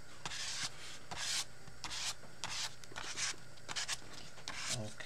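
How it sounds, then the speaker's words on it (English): Repeated rough scraping strokes of material, including gold, across a faith journal page, rhythmic rasping passes close to the microphone with no talking. "I'm going to go ahead and scrape it on."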